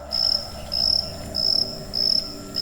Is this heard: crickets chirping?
yes